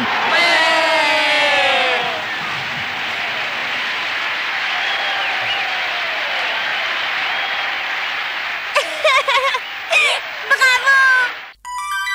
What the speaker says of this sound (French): Mesdames et messieurs, veuillez applaudir les Mister D